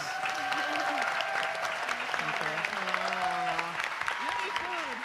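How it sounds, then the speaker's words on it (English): A crowd applauds panelists after a discussion on the consequences of US interventions in the Americas. The clapping is loud and steady throughout, with voices calling and talking over it. "Please give our panelists another round of applause."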